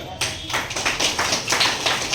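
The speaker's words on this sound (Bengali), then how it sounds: "ওনাকে জোরে হাত তালি হোক" An audience at a social workers' gathering bursts into applause for the program organizer, a dense burst of many hands clapping together at close range, lasting about two seconds.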